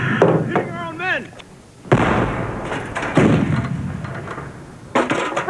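Artillery fire in a World War I war film battle scene, heavy booming blasts and thuds landing every few seconds amid shouting voices and battlefield noise.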